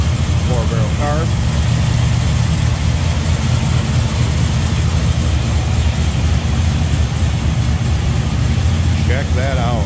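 A 1955 Dodge Coronet with a 440 engine, Edelbrock intake and 4-barrel carb idles loud and close in a steady, deep rumble, with brief voices faintly in the background.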